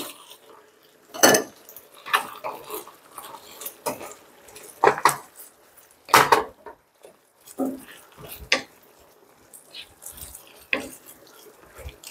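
Fried pork being tossed into sweet and sour sauce with cucumber in a pan for tangsuyuk, giving sharp clanks of utensil on metal and wet sloshing in an uneven rhythm, close by with no talk.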